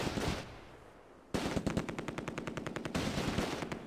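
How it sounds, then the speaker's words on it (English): A Mark IV tank fires in the Close Combat WWII game, with a rapid, evenly spaced automatic burst of about a dozen loud rounds that starts abruptly after a rumbling lead-in. No one talks. "The Mark IV returns fire and misses."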